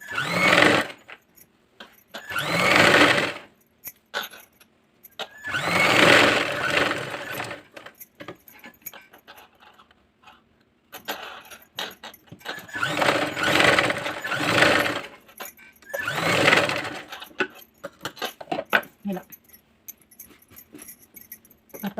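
Sewing machine stitching the round back neck of a blouse with a frog back neck design, several whirring bursts of a few seconds each with short pauses between, close and fairly loud.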